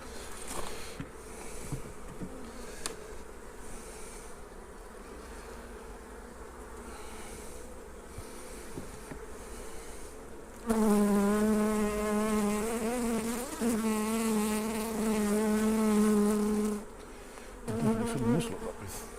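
Honey bees buzz around an open hive in a back garden, a steady near hum that swells into a louder, sharper drone as bees pass close, then fades back.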